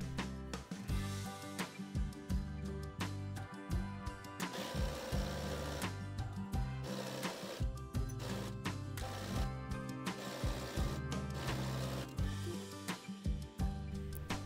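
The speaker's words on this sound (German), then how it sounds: "Von der rechten Seite steppen wir dann unseren Beutel knappkantig auf unsere Vorderhose" A domestic sewing machine stitches close to the edge, topstitching a pocket bag onto the front of Maisie-pattern overall trousers, in rapid mechanical bursts broken by short pauses, close by with no talk.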